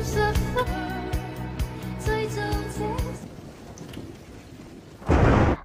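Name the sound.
thunderstorm with heavy rain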